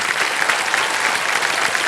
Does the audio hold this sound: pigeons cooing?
no